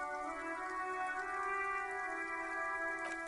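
Rain in the video game Disco Elysium, a soft, steady hiss of falling drops running under sustained ambient tones, quiet and unbroken, with no talk.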